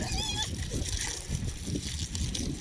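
Water splashes and sloshes into a pig's dish at feeding time, with continuous wet gurgling and spattering under a person talking nearby and occasional pig squeals.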